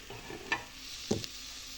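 Egg biryani masala softening in a pan over low flame, heard as a faint, quiet sizzle broken by two brief scrapes of stirring.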